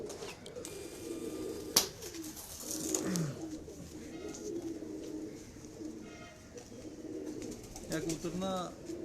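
A pigeon kept for pigeon racing gives soft, low cooing calls in a couple of short descending bursts over a quiet, murmuring background.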